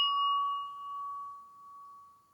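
A struck singing bowl or bell rings out in one clear sustained metallic tone with bright overtones, slowly fading and wavering as it lingers alone in quiet.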